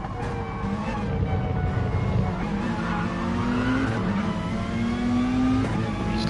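Peugeot and BMW race cars in Gran Turismo accelerating hard, with loud engine revs rising and shifting through gears, plus tire squeal and skidding as they fight for grip.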